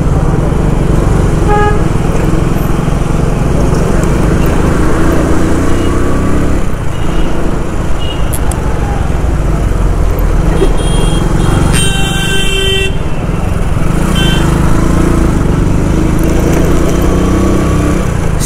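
Dense car traffic at New Palasia square in Indore, India, a steady loud roar of engines and motorcycles with scattered horn toots throughout, including a brief sustained honk midway.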